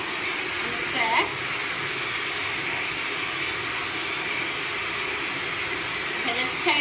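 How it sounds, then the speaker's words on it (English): A Dyson Supersonic hair dryer blows with a steady airy whoosh and hiss throughout, close and constant, with brief faint vocal sounds near the start and end. "it's a very different feel to normal hair dryers"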